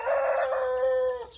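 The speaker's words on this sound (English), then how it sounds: "What are you crowing about, eh?" A backyard rooster at a suburban home crows once, close and loud, in a single sustained call lasting just over a second.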